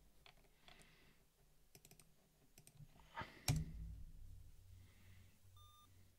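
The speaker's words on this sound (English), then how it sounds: "we have a beep" Computer beep during an OS/2 Warp 4 installation, a single short electronic tone near the end, after clicks and a louder clunk, all faint and close.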